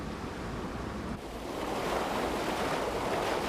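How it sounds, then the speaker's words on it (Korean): Sea waves surge around a fishing point and crash against a rocky cliff face, a continuous loud roaring wash that swells louder partway through, close by with wind noise. "포인트 주변을 돌아나가던 파도가 급기야 암벽을 강타하기 시작했다."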